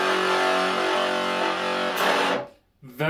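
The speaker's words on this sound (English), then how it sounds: "this tape deck modification generally would sound like" Heavily blown-out, fuzzy drum machine pattern from a modified Sony kids' tape deck, harsh and saturated with dense cymbal and hi-hat hiss, playing loud and steady before cutting out abruptly near the end.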